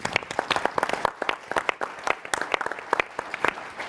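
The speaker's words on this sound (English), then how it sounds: "So big round of applause for them." Applause from a conference audience for an events team at a late-night tech leadership show, dense and continuous with many overlapping close claps forming an uneven, busy patter throughout.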